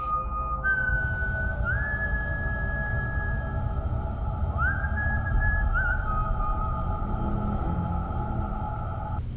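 A lone human whistle carries a slow, sustained tune of long held notes with gentle upward slides, steady and fairly close over a low background rumble.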